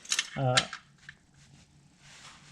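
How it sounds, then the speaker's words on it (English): A ratchet tightening the oil drain plug under a 2023 Ford Maverick 2.0 EcoBoost: a short burst of metallic clicking and clinking up close, followed by quiet background hum. "just tighten this drain plug a little bit"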